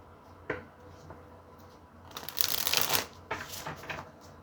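Tarot cards being shuffled and drawn make a few soft riffling flicks, then a louder ruffling shuffle and a couple of short card snaps, close and clear, with no talking.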